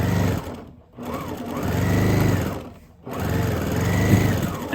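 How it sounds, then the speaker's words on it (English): Sewing machine stitching fabric to make a kitchen boa, running loud and close in two long bursts with brief pauses between, with a back stitch along the way. "we're gonna sew down to that pin that I put in, and I did back stitch a few times"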